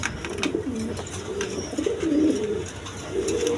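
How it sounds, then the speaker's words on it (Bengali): A pair of big fieldback pigeons, one male and one female, coo softly in repeated low, throaty phrases close by, with a quiet background. "দর্শক এইখানে এক পেয়ার ফিল্ডবেক কবুতর আছে, একদম বিগ সাইজের নর মাদি সেম টু সেম"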